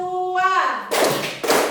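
Two quick, loud rounds of children clapping in unison in a classroom clapping game, each a short burst after a spoken call.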